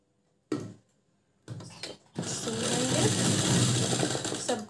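A sewing machine stitches folded fabric flowers, beginning with a few isolated clunks, then a steady loud mechanical whir of rapid stitching that runs to the end without talk.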